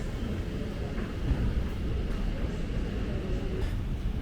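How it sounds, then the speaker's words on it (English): Elizabeth Line train pulling into a station platform, a steady low rumble and rolling hum that holds level throughout, with faint platform ambience. "And here is our train, the next service for Heathrow Terminal 4."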